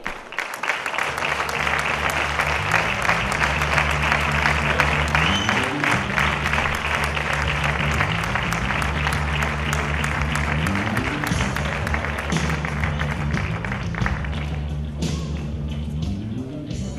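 Sustained applause from an audience at a 2017 sports gala honouring the coach of the year, steady dense clapping throughout with background music carrying underneath.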